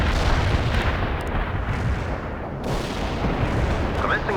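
Artillery barrage in the real-time strategy game World in Conflict, a dense, loud, continuous rumble of overlapping shell blasts and booms filling the whole stretch with no clear pause.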